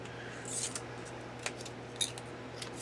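Scissors snipping a long paper hinge for a haunted mansion papercraft kit, giving a few close, crisp cuts with quiet gaps between them.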